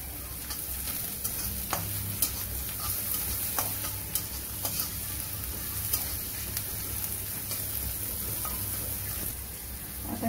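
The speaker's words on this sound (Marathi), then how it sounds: "याच्यामध्ये मी मिरची थोडी भाजून घेते" Green chillies fry with browned onions in a pan while being stirred, a constant dense sizzle punctuated by frequent light scrapes and clicks of the spoon, close and even for the whole stretch.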